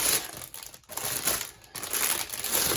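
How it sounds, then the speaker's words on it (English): Plastic packaging crinkles and crunches loudly and continuously close up while a diamond art painting kit is unboxed, with two brief pauses in the handling. "sorry for all the crinkling"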